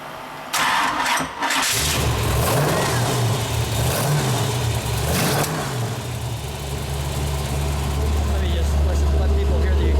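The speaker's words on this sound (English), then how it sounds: "Let people hear the exhaust note." A 1937 Ford Coupe street rod's engine cranks and catches indoors, then settles into a loud, deep rumbling idle with a few throttle blips, a voice talking briefly over it.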